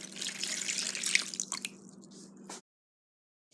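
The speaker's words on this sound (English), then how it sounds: "Now pour in the borax mixture." Borax mixture pours into glue and water in a small container, a soft trickling, splashing stream for a couple of seconds before it stops abruptly.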